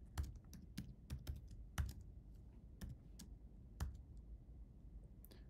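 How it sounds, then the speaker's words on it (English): Keys tapped on a computer keyboard while entering a square-root math expression, irregular bursts of clicks with short pauses, close and fairly quiet, no talking. "I'm going to see if I can type that in"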